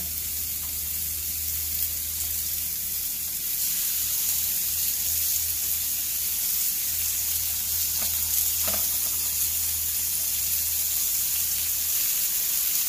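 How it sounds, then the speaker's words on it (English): Chicken sizzles steadily on a hot grill, a continuous bright hiss with a low hum underneath and a couple of faint clicks. "you hear that sizzle? That's what you want to hear."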